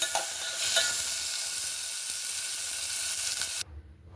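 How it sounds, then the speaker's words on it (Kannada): Spices fry in a hot pan with a loud, steady sizzle and hiss, with occasional stirring scrapes, ending abruptly in near quiet. "ಇವೆಲ್ಲ ಹಾಕ್ಕೊಂಡು ಸ್ವಲ್ಪ ಫ್ರೈ ಮಾಡ್ಕೊಳ್ಳೋಣ"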